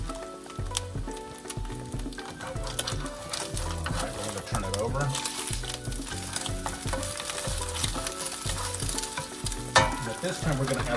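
An egg frying in a pan while fried rice is made, with steady crackling sizzle throughout and occasional scrapes and clinks of stirring over a busy kitchen background.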